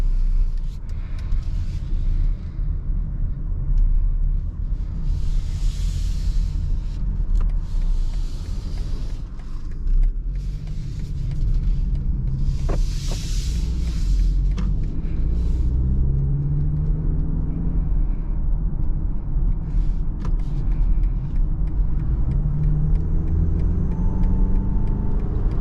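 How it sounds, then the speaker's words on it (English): A 2022 BMW X3 base-model compact luxury SUV on the road, heard from inside the cabin as a steady low rumble of engine and tyres that holds at an even level throughout. "Alright, so driving this 2022 BMW X3."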